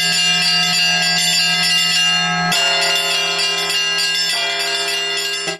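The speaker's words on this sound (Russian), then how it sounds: "Выступали мастера колокольного звона на передвижных звонницах" Large church bells on mobile belfries ring loudly and steadily at a bell-ringing festival concert in Yelabuga, their overlapping tones sustaining and blending, with a fresh strike renewing the peal midway through.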